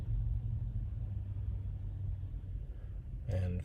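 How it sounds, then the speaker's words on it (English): Steady low rumble of passing cars on a busy road near a highway, continuous and fairly distant, with a brief brighter vehicle pass-by swelling at the very end. "I do apologize for the traffic sounds in the background."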